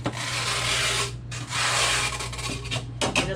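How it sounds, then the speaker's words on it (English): Scraping residue off the inside walls of a container, heard as steady raspy rubbing strokes in two long passes, then short uneven scrapes, close and fairly loud over a constant low hum. "I scrape as much as I can, gently, off the sides,"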